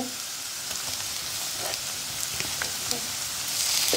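Onions browned in hot oil sizzle loudly and continuously as ginger paste is added, a close, dense frying hiss that swells slightly toward the end.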